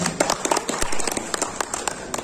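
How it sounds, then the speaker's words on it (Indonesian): A room of university students in Kendari claps for a presidential candidate, a brief, fairly close patter of uneven hand claps with scattered sharper smacks. "tepuk tangan"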